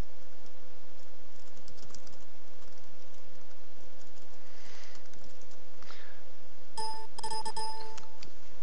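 Keys clattering on a computer keyboard as a password is typed, a short quick burst of clicks near the end over a steady background hum, no voices.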